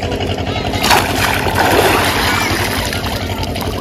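A person dips into the Brahmaputra river water at a riverside mela, producing close splashes and sloshing over a steady rushing background, with a voice talking over it.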